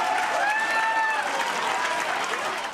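Hundreds of students clapping and cheering as they line school halls for a retiring janitor's surprise send-off, a steady moderate wash of applause with bright cheers and whoops rising above it.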